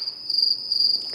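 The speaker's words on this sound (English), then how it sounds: "Crickets." Cricket chirping sound effect: a steady high-pitched trill pulsing in quick rhythmic bursts, clear and alone with no other sounds.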